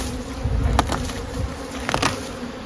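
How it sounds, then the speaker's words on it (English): Dense buzzing of many honeybees close by around hives being set up as nucs, a constant drone with a few louder passes as individual bees fly near. "bees who are used to home being here just fly an extra few feet forward"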